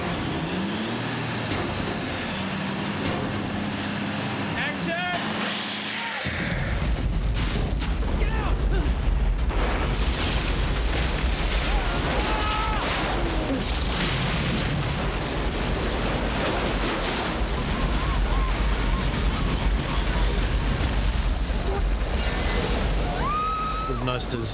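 A sudden heavy crash as a boat is crashed during a film stunt, then a loud, sustained rumbling roar with clattering debris, close and powerful, and indistinct voices underneath.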